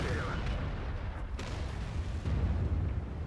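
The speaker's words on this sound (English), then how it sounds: "Enemy artillery gets spotted, and Seedeath takes a few shots at it." Tank gun shots aimed at enemy artillery in World of Tanks, heavy booming reports over a dense rumbling battle background, loud and close, with a voice talking over them.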